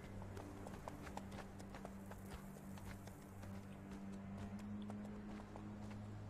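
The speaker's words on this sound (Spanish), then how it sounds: "suena como un caballo" Faint, steady hoof clops plod along under a low constant hum in Conan Exiles, quiet and somewhat distant.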